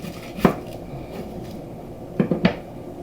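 Medium onions being chopped with a knife, heard as one sharp cut near the start and then a quick cluster of three close cuts a couple of seconds later, over a quiet room background with no talking.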